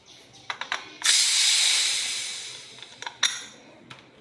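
A pressure cooker holding tomato rice is opened, letting out a loud, steady hiss of steam that swells for about two seconds and then fades, with metallic clinks of the lid before and after.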